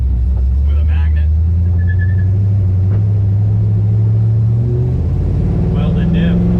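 An LS-swapped 240 car with a welded diff runs with a deep, steady engine rumble that rises slightly toward the end. A voice talks over it.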